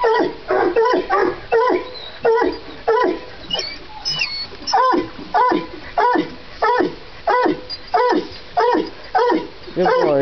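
Coon hunting dogs bay and bark in a steady, repeated rhythm, loud and close, each yelping call following the last at regular intervals.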